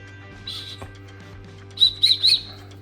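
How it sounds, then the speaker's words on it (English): A few short, high, quiet whistle chirps from a whistle built into a spork, one brief toot followed by three quick bursts, heard alone against a faint background hum. "Quiet whistle, not too loud,"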